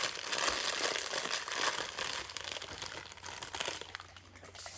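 Baking paper is crumpled close to the mic to imitate a crackling fire, giving a steady dense crinkling and rustling with no talk.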